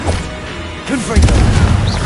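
Confringo blasting spell going off in Hogwarts Legacy, a loud booming burst that swells into a rumbling crash midway through, with a voice briefly heard over the blast.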